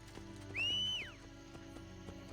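A horse whinnies once in the Assassin's Creed video game, a clear, rising-and-falling call lasting under a second. Soft hoof clops and faint game ambience sit underneath.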